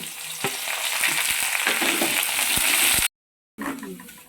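Garlic, ginger and curry leaves sizzle steadily in hot oil for a pickle, with clicks and spatters over the fry before a brief cut to silence and a return of the sizzle.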